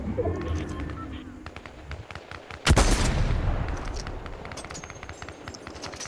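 A single sharp, loud sniper rifle shot in the video game Fortnite cuts through a busy background of faint game sounds and scattered small clicks, followed by a fading tail.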